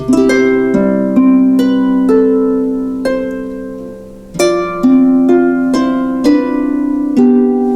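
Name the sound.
harp playing left-hand chord pattern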